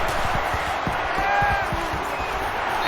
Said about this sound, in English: And this crowd is going absolutely crazy.